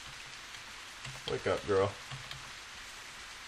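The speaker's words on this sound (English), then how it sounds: "It's raining." Steady rain hisses throughout a scene in the video game The Path, with a voice briefly speaking over the middle of it.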